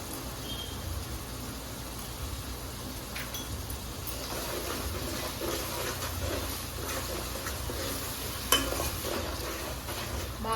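Fish curry masala with turmeric frying in a pan for chepala pulusu, a steady sizzle with stirring scrapes throughout, moderately close, and a single sharp clink near the end.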